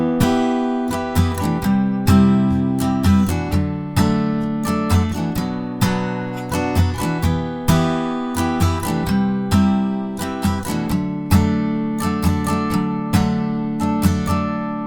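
An acoustic guitar plays a simplified verse strumming pattern, steady strokes moving through chord changes in a clear, close, unaccompanied rhythm lasting several bars.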